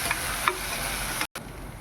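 Chopped onions, green chilies and curry leaves sizzle in hot oil with cumin for a tomato curry. A steady, dense frying hiss with light stirring runs through the brief moment, broken by a short silent gap.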